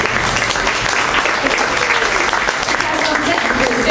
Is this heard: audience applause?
yes